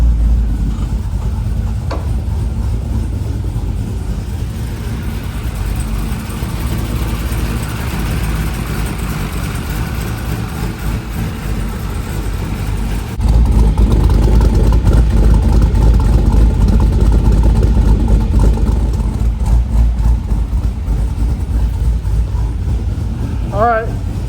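A hotrod engine runs at a steady idle after starting, a continuous low rumble that steps up a little louder partway through, with a brief voice heard near the start.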